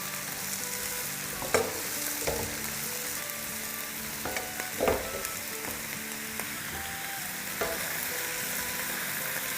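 Shredded cabbage and mixed vegetables, three handfuls of cabbage among them, stir-fried in a hot pan for fried rice or noodles: a constant loud sizzle broken by several sharp scraping stirs and clanks of the utensil.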